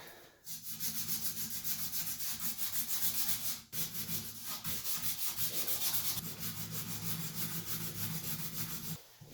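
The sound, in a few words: sanding copper pipe fitting on shower valve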